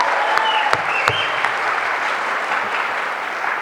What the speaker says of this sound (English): She's not here, but we should clap.